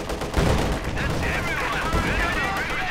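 Heavy, continuous battle noise in Company of Heroes 2 as a 120mm mortar barrage lands, with dense thuds and crackling blasts overlapping and a faint voice mixed in.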